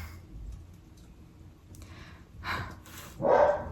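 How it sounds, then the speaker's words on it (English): Dogs bark indoors, a couple of short barks near the end following faint yips, fairly close but not loud, with no talking over them. "Okay, my dogs have stopped barking for real this time."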